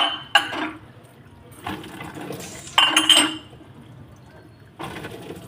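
Dishes being washed at home under running water, with clinks of plates and cutlery in separate bursts between quieter gaps, close and fairly loud.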